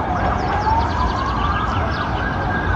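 A fire engine siren wails as crews respond to a burning wooden house, its loud, close, continuous rising tone filling the whole moment with no speech.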